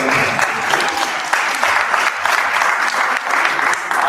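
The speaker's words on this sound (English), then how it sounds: "can we give a round of applause to all the organizations that are there?" A conference audience claps for the organizations in attendance: loud, close, sustained applause from a packed room, continuous throughout with no voices standing out.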